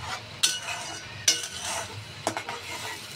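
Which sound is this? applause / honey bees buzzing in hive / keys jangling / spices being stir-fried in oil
spices being stir-fried in oil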